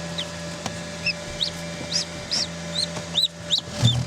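A newly hatched duckling peeps in short, high, rising chirps, about a dozen in irregular succession while being handled, over a low steady hum.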